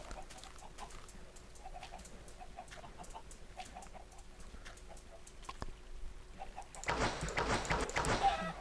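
Minecraft chickens cluck softly over a constant background hum, growing louder and busier near the end.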